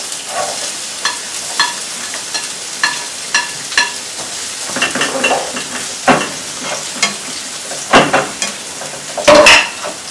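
Onions frying in a pan for pasta with bacon, stirred with a utensil so that repeated clicks and scrapes ride over a steady close sizzle, growing busier and louder toward the end.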